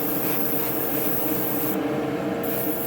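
Spray paint being misted as a second coat onto a diecast muscle car model: a steady, close, continuous hiss that holds for about three seconds, with no talking.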